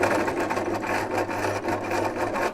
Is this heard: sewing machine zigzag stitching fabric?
yes